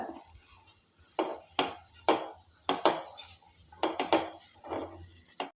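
A metal spoon scrapes and clinks against a pan in irregular strokes while baby corn for Manchurian is mixed, with soft shuffling of food between the sharper knocks.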